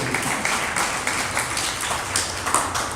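A crowd at a spiritual discourse claps steadily in dense, continuous applause for the full length, loud and unbroken, with no speech over it.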